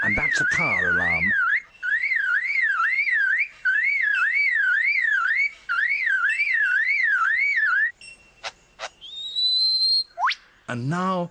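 A lyrebird mimics a car alarm, whistling a loud, close, cycling up-and-down siren in repeated bursts, then breaking into short sharp clicks and rising chirps.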